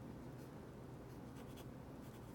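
A Dr. Grip pen scratches faintly across smooth Clairefontaine paper, a soft continuous scribble with a few brief stroke accents, close and quiet.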